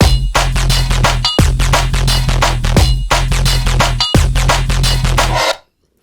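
A growly, noisy digital bass synth plays a short riff with rhythmic attacks and thick low end, repeating several times, loud and upfront, then cuts to silence at the end.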